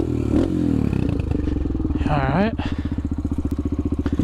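A TTR 125 dirt bike fitted with an FMF exhaust is kicked over with scraping and clattering, then catches and settles into a rapid, loud, popping idle close by; a brief spoken word comes in partway through.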